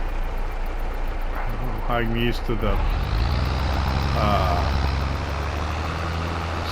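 A low, steady tractor engine drones in Farming Simulator 22 on a Missouri farm, running under a man's speech throughout.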